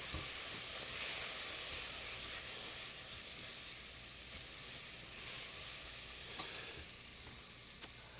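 Spices such as cumin, coriander and chili powder are stirred into a pot of simmering turkey chili, giving a steady soft sizzle and hiss with faint scraping strokes, close and quiet with no talking.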